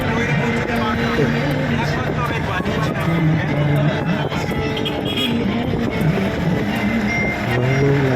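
A car moves along a forest road through green jungle in Purulia, with a steady, continuous road and engine rumble. Talking and chatter from people inside the car run over it the whole time.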